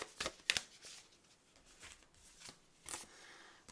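Astrology cards being shuffled by hand, a few quick riffling bursts with short pauses between them, close and soft.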